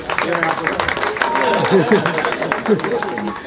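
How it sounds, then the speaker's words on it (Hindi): Audience applause at a film teaser launch event, a continuous wash of many hands clapping with crowd noise, partly masked by someone speaking over it. "जोरदार तालियों के साथ"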